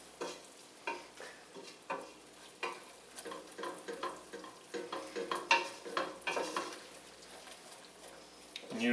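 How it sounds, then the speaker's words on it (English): Flour roux is stirred in a hot pan, with a spoon scraping in repeated close strokes over a soft sizzle that gradually builds, and no talk over it. "want to stir flour for a minute to make sure we get the taste right"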